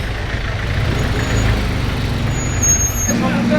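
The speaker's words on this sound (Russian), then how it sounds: "А вообще здесь такой жесткий трафик" Heavy street traffic in Erbil, Kurdistan, forms a dense, steady roar of trucks, buses and cars close by, with a deep engine rumble throughout and a brief hiss like an air brake near the end.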